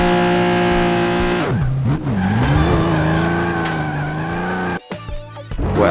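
Car engine and squealing tires in Turbo Dismount, a loud sustained engine drone with pitch sweeps as the vehicle skids, broken near the end by a brief dropout and a sharp clattering impact.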